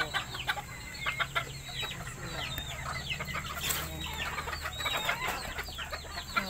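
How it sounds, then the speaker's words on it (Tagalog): Pet bantam chickens cluck and chatter busily at morning feeding, a flock of overlapping short calls close by with an occasional sharper squawk over a faint background hum. "Ayan yung mga alaga kong manok."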